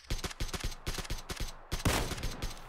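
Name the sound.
gunfire in the video game PUBG Battlegrounds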